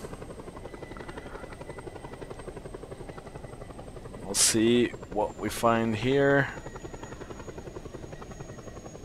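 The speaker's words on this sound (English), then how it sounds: "Well, I probably can't use the helicopter anyway." A helicopter in the video game Just Cause 2 drones with a steady rotor chop throughout, loud and continuous, while someone speaks briefly over it midway.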